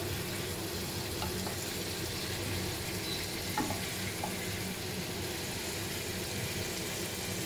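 Celery and tofu stir fry sizzling in a hot pan, a steady, soft frying hiss with occasional faint clinks of a utensil, no voices.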